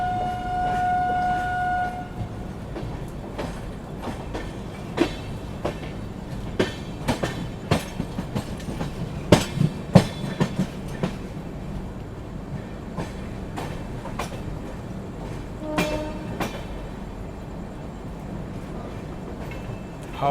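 A Rajdhani Express train at Gaya Junction rolls in with steady rumbling and clickety-clack of wagons, sharp clanks and bangs near the middle, and a brief horn or whistle tone at the start, close and loud, with no talking.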